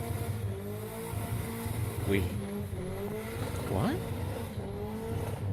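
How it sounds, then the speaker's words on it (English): A car doing burnouts, heard faintly and at a distance with engine revving in wavering tones and brief squealing tires, under a quiet room tone while a voice speaks briefly. "he's done multiple burnouts, has he?"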